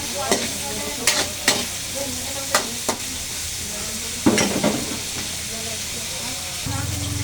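Pechay stems sizzle in a hot pan while being stirred, with a steady frying hiss broken by several sharp scraping clacks of the utensil against the pan.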